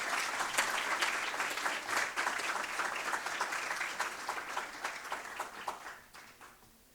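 Warm applause from a lecture audience greets a visiting professor, dense steady clapping that thins into scattered individual claps near the end.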